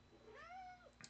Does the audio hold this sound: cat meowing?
yes